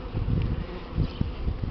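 Buckfast honey bees hum at an opened hive during the first spring inspection of the colony, a steady close buzz with a few louder swells and no talk.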